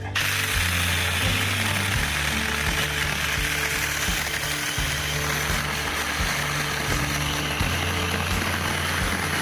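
A SAKER mini chainsaw cuts through a 2.5 to 3 inch maple branch, its motor buzzing loud and close with a steady drone that dips in pitch as the chain bites into the wood.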